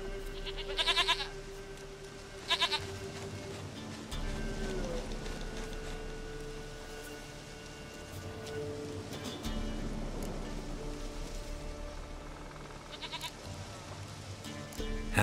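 Goats bleating in The Witcher 3 video game: several short, wavering bleats spaced out over a steady outdoor ambience, moderately near and without speech.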